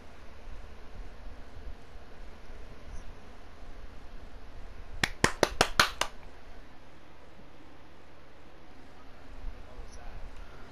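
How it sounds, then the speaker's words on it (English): A quick burst of about six sharp hand claps lands midway through, close and crisp, against an otherwise quiet, faintly noisy room. "Me clapping."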